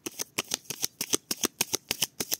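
A deck of oracle cards being shuffled, with a rapid series of about fifteen crisp, riffling card snaps in steady rhythm, close and clear, with no voices.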